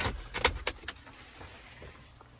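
Keys jangle and an ignition switch clicks in a BMW E28 535i, a few quick metallic rattles up close, then a faint electrical hum with no talking.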